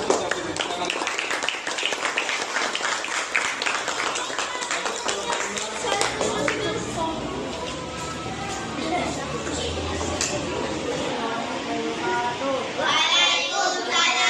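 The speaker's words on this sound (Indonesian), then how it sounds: "kalau tidak ada tanggapan, kita beri tepuk tangan" Students clap together in a classroom, a dense, lively burst of applause that carries on for over ten seconds with a few children's voices mixed in, fading slightly before a voice speaks at the end.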